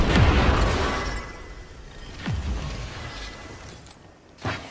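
Frag grenade blasts in the video game Apex Legends, a loud booming explosion at the start followed by two further bursts, with no talk over them.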